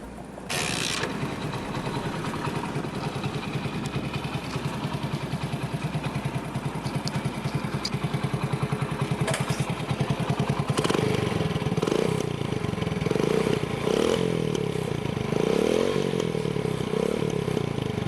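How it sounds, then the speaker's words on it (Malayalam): A restored Hero Honda Splendor motorcycle fitted with a replacement silencer starts up, then runs and idles with a steady single-cylinder putter and some revving, close and continuous. "ഇനി ഈ ബൈക്കൊന്ന് ഞാൻ സ്റ്റാർട്ട് ചെയ്ത് കാണിച്ചു തരാം."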